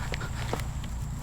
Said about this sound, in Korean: 제 뒤에서 발소리가 들리는 거예요.